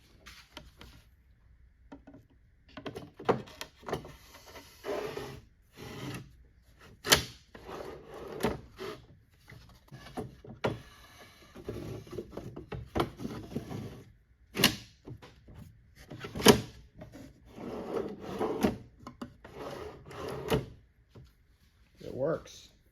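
Blum Tandem undermount drawer slides are pushed open and shut repeatedly, giving sharp wooden knocks and soft sliding thumps scattered among intermittent talking nearby.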